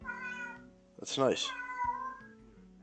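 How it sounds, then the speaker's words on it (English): A cat meows once, clear and drawn out, in the middle of quiet talk from a person nearby. "Sorry if you hear a cat in the background."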